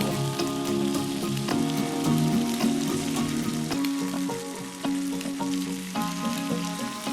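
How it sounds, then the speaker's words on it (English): Steak searing under a moving torch flame, a steady crackling sizzle with spattering pops over a continuous hiss, close and fairly loud with no talk. "keep that flame moving without having to burn the steak"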